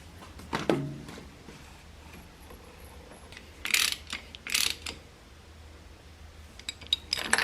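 A hand ratchet chases spark plug threads in a cylinder head, giving short bursts of quick metallic clicking separated by quieter gaps, close and fairly soft.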